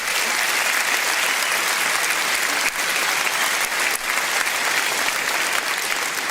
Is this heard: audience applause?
yes